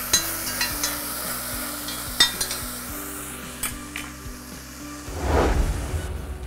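Meat browning in a pan for Turkish Ramazan kebab, with onions tipped in partway: steady close sizzling and frying, repeated metal utensil taps and scrapes from stirring, then a louder rushing burst of hiss as the onions hit the hot fat.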